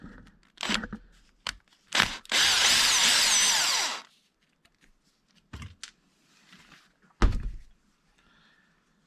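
A power driver whirs for about two seconds, backing screws out of a Traxxas X-Maxx 8S hub, framed by sharp clicks and clunks of the tool and parts being handled, with no talk.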